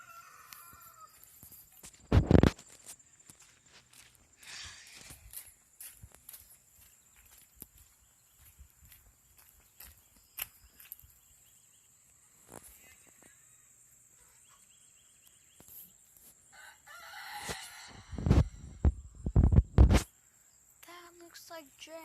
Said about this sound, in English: I'll show you guys the chicken.